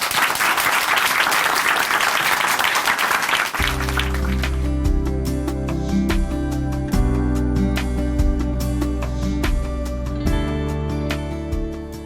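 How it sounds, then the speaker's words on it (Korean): A church congregation breaks into loud, dense applause to welcome a speaker. Partway through, a sustained organ-like music bed enters and the clapping continues over it until the end. "박수로 모십니다."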